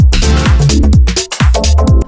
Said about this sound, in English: then you can add in like a closed hi-hat like this.